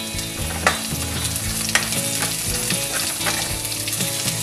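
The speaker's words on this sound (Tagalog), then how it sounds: "magigisa na tayo ng bawang. Kasama po ang sibuyas." Garlic and onion sauté in oil in a wok, crackling and sizzling loudly with a few sharp clinks and scrapes of the spatula stirring, alone without speech.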